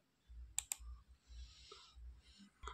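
A computer mouse clicks on a continue button during a Kali Linux install setup: two sharp, close clicks in quick succession over a faint room hum.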